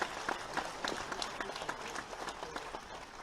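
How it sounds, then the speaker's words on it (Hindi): An audience at a mini stadium appointment-letter ceremony in Lucknow claps together in a steady, dense round of applause, heard from a distance and fairly faint. "मैं चाहूंगी एक बार जोरदार तालियों से आप अपने हृदय का उत्साह मंच तक ले जाएं।"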